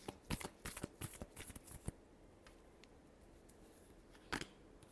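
Tarot cards being shuffled in a burst of quick riffling slaps and flutters during the first two seconds, then near quiet, ending with one more short crisp flutter of the cards.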